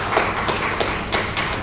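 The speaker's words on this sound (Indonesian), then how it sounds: "Coba tepuk tangan dulu." Seminar audience at a national human rights event by Lake Toba clapping in scattered, irregular bursts, fairly close and moderately loud, with no talk over it.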